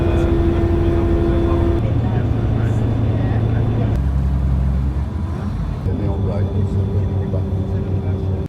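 Riding aboard a public bus on Madeira, with a steady engine drone and road rumble that shifts pitch as the bus changes gear, while a voice speaks over the noise.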